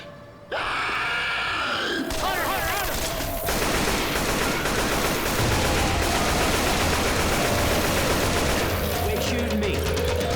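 Sustained, dense gunfire from a teammate in Left 4 Dead 2 rattles on loud and close through most of the stretch, layered with chaotic game effects and groans.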